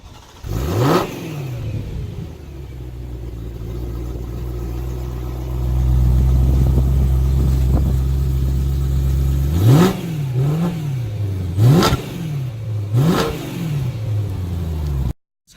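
A BMW M3 (E90) with a dual clutch transmission revs hard and accelerates while driving, dropping briefly between gear shifts before climbing again, loud and close throughout.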